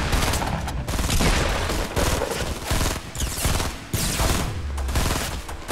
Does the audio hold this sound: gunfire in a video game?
yes